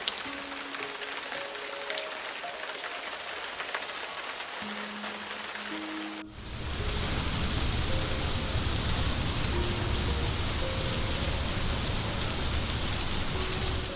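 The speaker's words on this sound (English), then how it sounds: "a heavy summer rain begins to pour, deeply watering the thirsty earth" Heavy summer rain starts suddenly partway through in a Vietnamese village, a dense steady roar of downpour that continues loudly to the end after a quieter opening.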